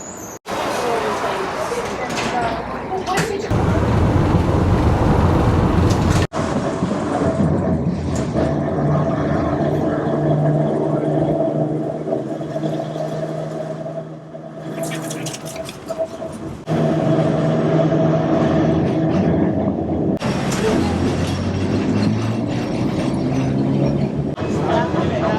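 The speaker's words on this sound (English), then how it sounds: "it is actually the oldest running streetcar in the world" Rumbling ride aboard a New Orleans streetcar, the oldest running streetcar line, with rattling wheels, clunks and shifting mechanical noise, mixed with people talking nearby throughout.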